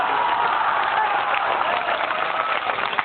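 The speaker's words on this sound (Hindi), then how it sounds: "एक बार इस मुशायरे के लिए और अपने आप के लिए जोरदार तालियां" Audience at a mushaira applauding, steady dense clapping sustained at moderate loudness, sounding thin and band-limited.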